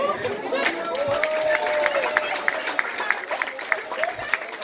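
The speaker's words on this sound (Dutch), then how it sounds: "En graag even een heel groot applaus." An audience at a talent-show playback evening claps and cheers, a moderately loud crowd of scattered hand claps and chatter continuing throughout, with a voice talking over it.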